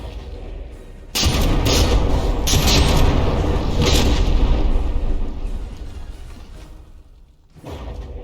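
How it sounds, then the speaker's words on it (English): A battleship's rearmost turret fires a large volley of shells in the naval combat game From the Depths, with a sudden heavy boom that swells into a loud sustained rumble, fades, then a second blast starts at the end. "Large volley of shells popping off the rearmost turret of the Paladin."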